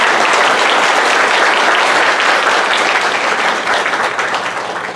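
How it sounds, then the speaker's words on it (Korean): Sustained, loud audience applause from a church congregation welcoming an elder to the stage at a creation science seminar, dense clapping throughout that tapers slightly toward the end. "큰 박수로 한번 환영하시겠습니다"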